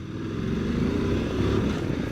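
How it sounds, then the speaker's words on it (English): A VOGE DS900X adventure motorcycle ridden fast, giving a steady loud engine drone mixed with heavy wind rush, close and continuous with no talk. "This motorcycle is very freaking fast."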